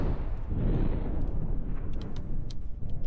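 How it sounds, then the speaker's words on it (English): A deep, rumbling internal explosion tears through an enemy base in the naval warfare game From the Depths, a sustained roar of heavy booms with faint crackling above it. "We've knocked the gun off, and there's been some kind of internal explosion."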